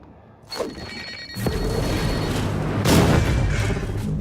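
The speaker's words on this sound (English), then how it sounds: "Recycle grenade." A recycler grenade going off in the video game Prey: a booming blast with a swelling, rumbling whoosh and a ringing electronic tone that sustains loudly for several seconds.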